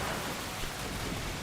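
Soft, steady rain from the rain weather effect during a Pokémon Scarlet/Violet competitive VGC battle: a constant, even hiss at low volume with no voices.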